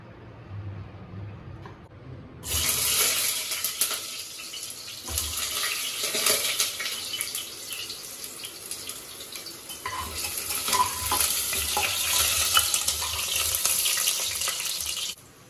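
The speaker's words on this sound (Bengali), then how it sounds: "ততক্ষণে আমি কুকারে মাংসতে যে আলু দেবো সেই আলুটা ভেজে নেব।" Potatoes frying in a pan for a mutton curry give a broad, steady hiss that starts abruptly after a quiet moment and keeps going close and fairly loud.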